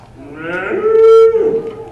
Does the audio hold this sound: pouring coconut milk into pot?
no